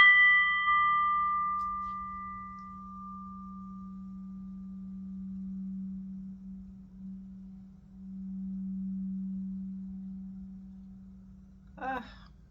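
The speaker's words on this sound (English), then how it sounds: "my crystal tuning fork that's set at 436 hertz" A crystal tuning fork set at 436 hertz is struck and rings with a clear, pure tone. A steady low hum sits underneath, the bright ring fades over several seconds, and a brief clang is heard near the end.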